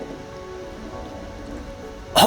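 Steady rain falls outside an abandoned 1700s countryside hospital, a soft continuous patter heard from indoors, with a brief louder knock or thump near the end and no talking.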